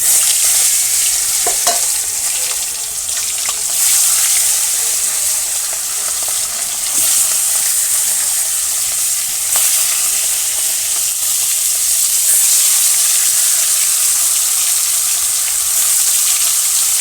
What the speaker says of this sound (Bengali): এই যে এখন মাছটা ভাজবো।